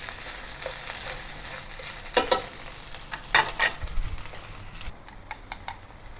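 Beef and asparagus are tossed in a hot wok for a spicy Sichuan stir-fry, loud bursts of scraping and clattering over a constant hiss of frying, heard close and with no talking.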